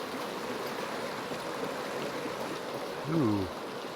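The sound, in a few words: flowing stream water in Population Zero video game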